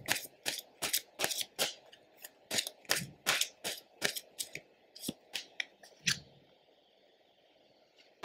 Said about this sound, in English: Pull one more card and then we'll close it out.